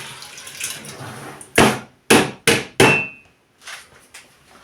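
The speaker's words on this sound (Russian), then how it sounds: "заливаю стакан воды. И выливаю его сюда. Гречку эту." A glass of water is poured over rinsed buckwheat in a pot, heard as a few short, loud splashing bursts in quick succession, separated by brief pauses, with no talking.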